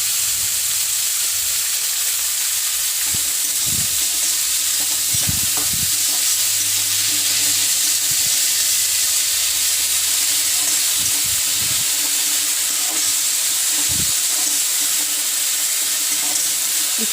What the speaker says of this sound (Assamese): এতিয়া পিঁয়াজটো ভাজি লৈ মই ইয়াতে টেঙা পাতখিনি দি দিম।